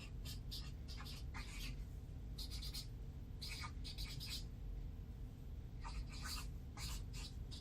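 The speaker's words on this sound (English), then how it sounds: "I'm just writing" A pen scratches across paper in short bursts of handwriting, close and dry, with pauses between strokes.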